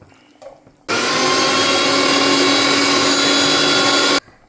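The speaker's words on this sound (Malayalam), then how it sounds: "നമുക്ക് ഇത് മിക്സിക്കകത്തിട്ട് ഈ സാധനം ഒന്ന് പൊടിക്കാം." A mixer grinder whirs at full speed, pulverising a masala of Kashmiri chili, fenugreek and mustard seeds, starting abruptly after a few faint clicks, running loud and steady for about three seconds, then cutting off.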